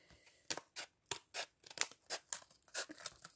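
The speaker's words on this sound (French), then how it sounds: "Je vais venir la découper avec mon ciseau." Scissors snip through cardboard while cutting out a star shape, a run of close, crisp crunching cuts in an uneven rhythm, with no voices.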